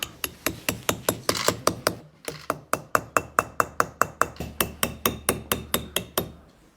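Traditional hammer and chisel carving stone in Yushu, Tibet: a steady run of sharp, ringing metal-on-stone strikes, close and evenly spaced, with one brief pause early on.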